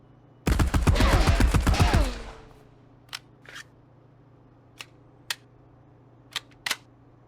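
A Thompson submachine gun fires while aiming down sights in Marauders: a rapid, loud burst of about twelve shots lasting roughly a second and a half, followed by a few sharp, isolated clicks and taps.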